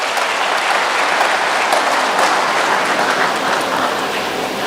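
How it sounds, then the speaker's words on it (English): Crowd at a ZIFA football association ceremony giving a round of applause, thick and continuous like heavy rain, loud and close throughout. "A round of applause"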